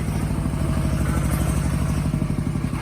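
A farm tractor engine runs steadily up close with a rapid low thudding chug and a clattering mechanical rattle, holding an even loudness throughout with no voices over it.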